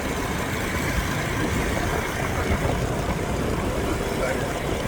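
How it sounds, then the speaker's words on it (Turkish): A motorbike carrying riders toward the beach near Hue, its engine a steady droning rumble mixed with wind noise, continuous and fairly close, while a voice talks over it. "Motorla gidiyoruz"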